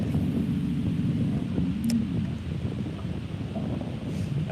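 Wind buffets the microphone on a fishing boat drifting toward a point, a steady low rushing roar with faint water and hull noise, close and continuous, with no speech.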